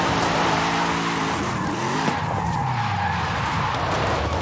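Corvette drift car in a racing video game, engine droning steadily with tire squeal and skidding tones sliding through the whole stretch, loud and close with no talk.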